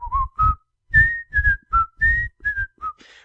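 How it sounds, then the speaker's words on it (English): Someone whistles the Andy Griffith theme tune in a Lincoln Continental car ad, about nine clear, bright melodic notes, some held and some clipped short, loud and alone against silence. "he was whistling the Andy Griffith tune"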